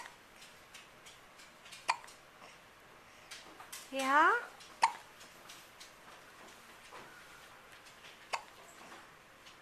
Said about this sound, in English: Your hiccups are adorable